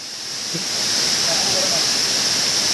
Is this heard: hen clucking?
no